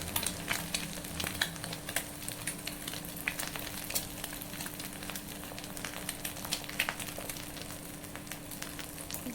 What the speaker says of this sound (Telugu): ఎగ్స్ని ఫ్రై చేసుకునేటప్పుడు ఫ్లేమ్ అనేది మీడియం ఫ్లేమ్లో పెట్టుకొని ఫ్రై చేసుకోవాలి